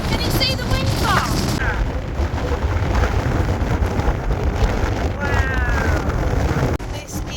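Strong wind roars across a winter mountainside, a loud, steady buffeting rush that batters the microphone almost without a break before dropping off abruptly near the end.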